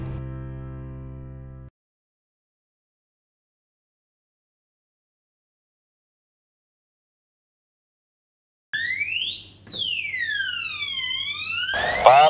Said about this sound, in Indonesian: gempa barusan menimbulkan alarm di house nih Pak